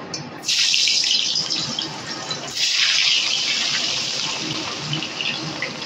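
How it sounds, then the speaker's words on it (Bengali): Potatoes frying in hot mustard oil in a karahi, a steady loud hiss and sizzle running throughout with no talk. "তেলটা গরম হয়ে গেছে, এর মধ্যে আমি আলুগুলোকে ভেজে নেব।"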